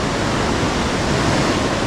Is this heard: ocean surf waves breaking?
yes